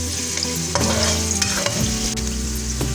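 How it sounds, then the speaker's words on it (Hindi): Garlic frying in about four tablespoons of oil in a pan, a continuous loud sizzle with scattered clinks and scrapes of a stirring utensil, no voices. "एक पैन में मैंने अबाउट 4 टेबल स्पून ऑयल लिया, इसमें मैंने गार्लिक ऐड कर दिया"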